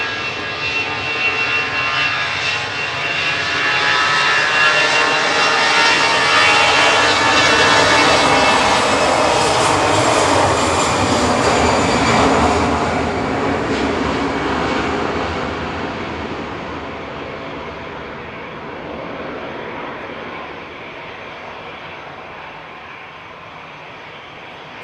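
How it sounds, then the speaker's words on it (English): An easyJet Airbus A320 Classic departing Manchester Airport roars loud and close, its jet engines swelling to a peak and then fading slowly into the distance. "Flight 2199 departing there, GEZ-UN and A320 Classic."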